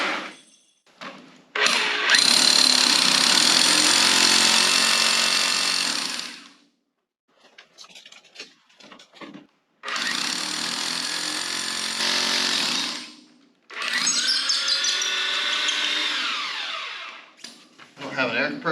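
Loud bursts of a hammer drill pounding into a garage floor to install a car lift, three separate runs, each lasting several seconds, with short pauses between them.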